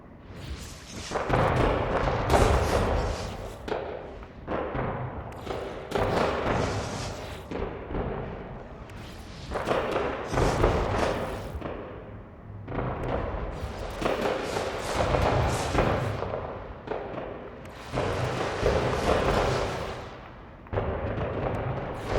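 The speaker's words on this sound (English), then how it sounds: "Let me go down, pick my fireworks, go into build mode, and here we go." Fireworks launched from a barge in No Man's Sky go off in repeated booming bursts, each followed by a crackling, rumbling tail, with short gaps between volleys and no talking.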